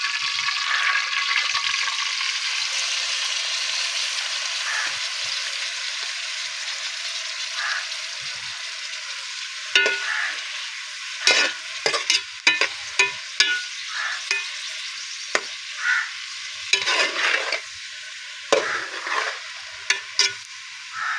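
Food sizzles steadily while being fried in ghee in a village kitchen, broken from midway by repeated scraping and clattering stirs of a spoon against the pan.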